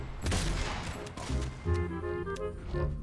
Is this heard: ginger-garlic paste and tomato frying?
no